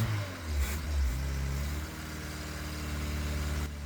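A junkyard-rescued classic Toyota Cressida, carburettor primed with petrol, runs just after its first start: a low engine note swells briefly twice, then settles into a steady, slightly uneven idle close to the microphone.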